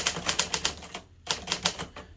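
Keys strike rapidly on a 1958 Hermes 3000 manual typewriter resting on a typewriter pad, with crisp close clacks in two quick runs separated by a brief pause.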